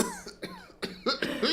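Someone coughs several times in quick, rough bursts, close by, with a hoarse throat-clearing quality, in a room with dusty counters.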